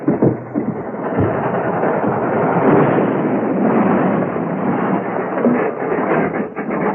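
A train in an old radio crime drama rumbles loudly and grinds to a sudden halt, a dense, band-limited roar that swells and then breaks off unevenly.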